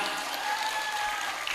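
An audience at a religious gathering commemorating the Prophet Muhammad's birthday applauds, producing a dense, steady wash of many hands clapping at moderate distance with no single claps standing out.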